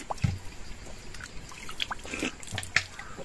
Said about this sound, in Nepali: त्यो पानी कहाँबाट आइरा हो